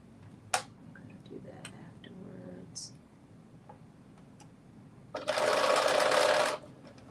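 A domestic sewing machine running a basting stitch through three layers of fabric, including a looser knit, whirs in one steady burst of a little over a second near the end, after quiet handling clicks and taps.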